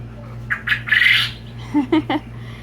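A quail's crowing call, a few short raspy notes followed by a quick run of three chirps, close by over a steady low hum.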